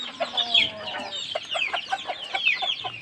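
Nizam breed rooster and hens cluck in a village yard, a close, busy run of short repeated clucks and squawky calls overlapping from several birds.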